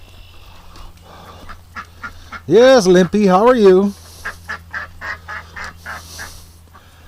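A duck begging for food gives a loud burst of honking quacks up close, then softer intermittent calls continue, with someone speaking over a low steady engine-like hum.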